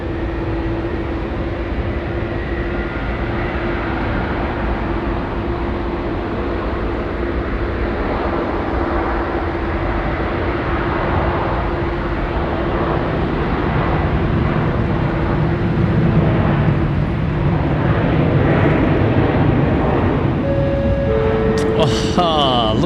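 A Boeing 787-9 airliner rolls along the ground at Sydney Airport, a steady broad engine rumble and roar carried at a distance, continuous throughout with a faint electronic chime near the end.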